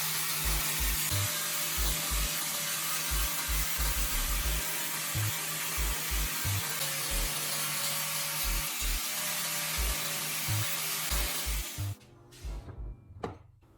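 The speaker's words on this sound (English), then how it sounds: "Rotate the knife and grind evenly on every side." A handle made from melted plastic bottle caps being ground on a power tool, a steady loud whirring grind with rhythmic low pulses that cuts off near the end, leaving a few scrapes.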